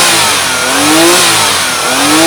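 A mini van's engine revs up and down on the accelerator, close and loud, with two rising surges in quick succession and no speech.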